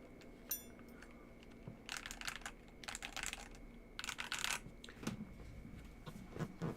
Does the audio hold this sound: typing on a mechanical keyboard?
yes